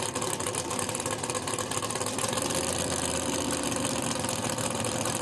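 A drag racing car's engine idles loud and rough as it creeps into the staging beams at Perth Motorplex, a dense steady rumble with no break throughout.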